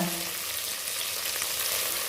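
Onions and tomatoes sauté in a hot pan, giving a steady, close sizzle and crackle.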